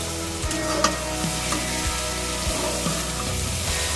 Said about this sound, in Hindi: इसको 5 मिनट के लिए इस पेस्ट में भूनेंगे।